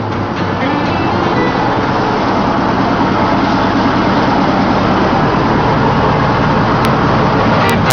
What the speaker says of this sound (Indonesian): penggunaan mesin penghalus singkong sangat membantu para pekerja untuk menyelesaikan tugasnya